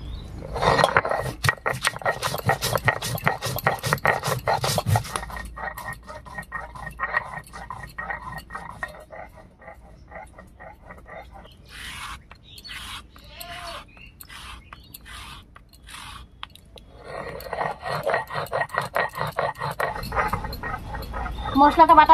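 Ginger with whole cumin and black cumin being ground into a spice paste for a taro leaf (kachu shak) dish: rhythmic scraping grinding strokes at the start and again near the end, with someone talking between them.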